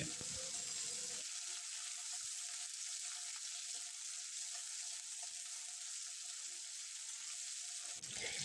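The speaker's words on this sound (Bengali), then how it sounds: "পেঁয়াজ ক্যাপসিকামটা আমি ফুল আঁচে ভেজে নেব 2 মিনিট।" Onion and capsicum chunks fry in oil over a full, high flame for veg Manchurian, giving a steady, close sizzle that holds evenly throughout with no talking.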